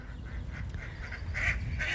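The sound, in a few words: ducks quacking at the shoreline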